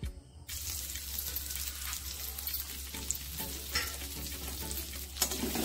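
Cashews and raisins fry in ghee in a wok, giving a steady, close sizzle with scraping stirs throughout and no voices.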